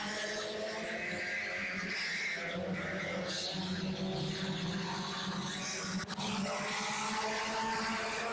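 Race cars roar around Jacksonville Speedway during a heat race, a continuous loud engine drone with passing surges and a brief tire skid, steady throughout.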